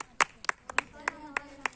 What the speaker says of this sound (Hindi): तालियां लगाओ